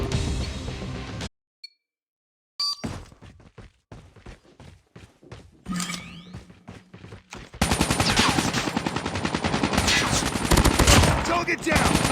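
Rust survival game gunfight: bursts of rapid automatic gunfire and single shots, with a brief silent gap, then a dense, loud sustained volley in the final seconds.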